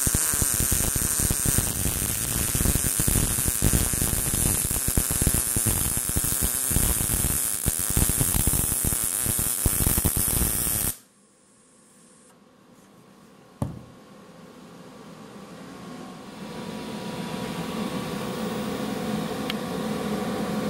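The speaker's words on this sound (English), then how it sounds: "I'm going to be welding 1/8 inch." Vulcan OmniPro 220 welder laying a bead on 1/8 inch steel, a loud, steady crackling hiss that runs continuously for about eleven seconds, then cuts off abruptly and leaves only faint room noise with a single brief click.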